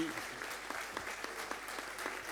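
Warm applause from a conference audience for four round-table speakers, close and steady with distinct individual claps standing out in the dense patter.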